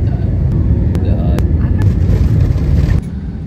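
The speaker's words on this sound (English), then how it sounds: "Did you hear the plane when it landed?" A passenger airplane touches down, heard from inside the cabin as a loud, steady low roar with sharp thumps and rattles from the landing, dropping abruptly near the end.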